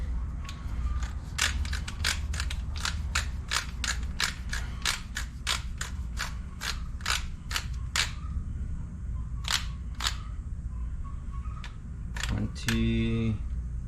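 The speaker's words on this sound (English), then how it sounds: "Torque wrench." A torque wrench ratchets on the rear brake bolts of a 2004 Jeep Grand Cherokee, giving a long run of crisp, evenly spaced metallic clicks. A couple of pauses break the run, then a final click comes with a brief voice.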